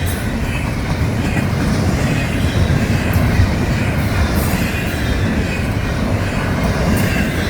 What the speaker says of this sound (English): for the 101, this is a massive train